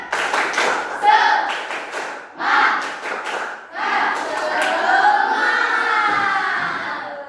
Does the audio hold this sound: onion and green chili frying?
no